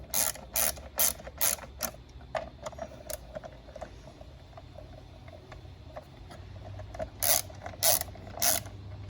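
A ratchet with a 3/8 Allen socket snugs down valve cover bolts on a Toyota Camry: quick bursts of sharp, close clicking at the start and again near the end, with quieter ticks between.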